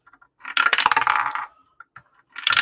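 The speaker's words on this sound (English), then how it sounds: "We need to put some dice in it and see how it rolls." A few dice clattering and tumbling down a dice tower: a dense rattling burst lasting about a second, a couple of small ticks, then a second short clatter at the end.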